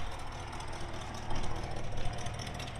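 A 1972 International Harvester 1210 truck engine idling quietly, a low steady rumble with a soft, even pulse, close by and without talking.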